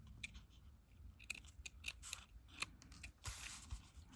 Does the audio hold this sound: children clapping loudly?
no